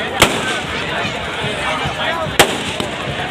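Two sharp firecracker cracks burst out, one early and one later with a small follow-up pop, over a steady din of a busy crowd at a Dussehra festival.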